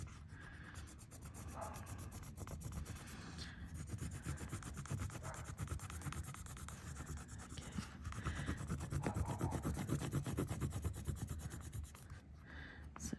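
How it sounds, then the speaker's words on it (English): A paper stump, or tortillon, rubs steadily over 70-micron metal tape on an artist trading card, making a continuous soft scraping rasp of close strokes that persists from start to finish. "got to work it with our paper stump."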